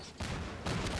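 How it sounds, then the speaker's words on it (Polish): Blasts and explosion-like bursts in the game Garry's Mod, dense noisy booms in two close surges, loud and rumbling with no talk over them. "Co to za wybuch?"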